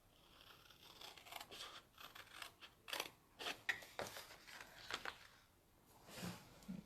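Small Stampin' Up scissors cutting during a 3D frame craft project, making a series of quiet, close, crisp snips and slicing sounds at an uneven pace.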